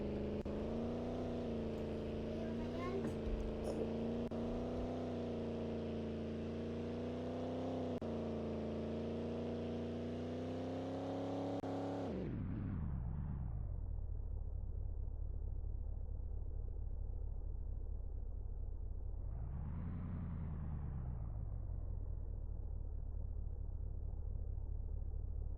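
A small work vehicle's engine in a roleplay video game hums with a steady tonal drone, then winds down to a low idle rumble before briefly revving up and settling again.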